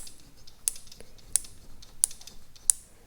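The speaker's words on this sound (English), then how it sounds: "I hear some snapping over here" Magneto on a Caterpillar Twenty-Two with an Eisemann CM-4, turned by hand during a rebuild: four sharp, faint spark snaps at steady intervals over a quiet background hum, with no talking.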